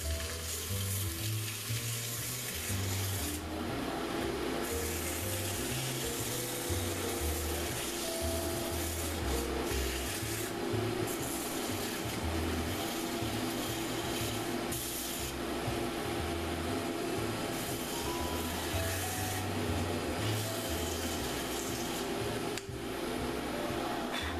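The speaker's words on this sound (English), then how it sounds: "I can just put this sandpaper right on here" Sandpaper held against a cedar hand wheel spinning on a wood lathe, a steady loud abrasive rasp over the lathe's low rumble and throbbing motor, continuous and close, with no talk.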